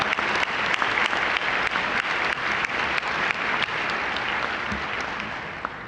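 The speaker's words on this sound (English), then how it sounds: "Give Cynthia a huge round of applause." An audience at the Pasadena Mayor's Interfaith Prayer Breakfast gives a hearty round of applause, with dense clapping and a few sharper claps standing out, gradually tapering off near the end.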